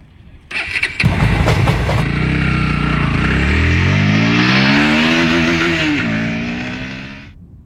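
Engine cranks and catches with a rough burst, then revs up and pulls away, rising pitch sweeps carrying a loud steady drone that fades slightly at the end; no talking.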